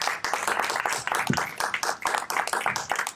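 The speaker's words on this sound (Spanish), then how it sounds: "Dale una fuerte ofrenda de palmas al Señor." Church congregation clapping hands loudly in praise, a dense, rhythmic burst of applause close by.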